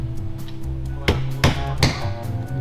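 A flat palm smacks a replacement window into its opening on a 2022 GMC Yukon Denali during repair, giving three distinct, fairly loud dull thumps spaced about half a second apart over a steady low background hum.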